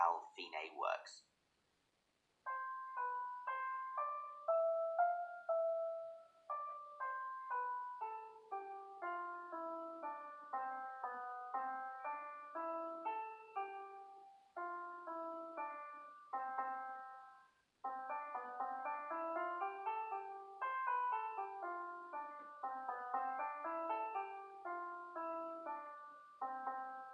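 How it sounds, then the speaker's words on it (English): A short melodic piece of music plays alone, bright tonal lines with steady phrasing and a brief pause near the start and another partway through, demonstrating a D.S. al Fine repeat structure. "Let's have a listen to this piece of music so it becomes really clear exactly how D.S al Fine works."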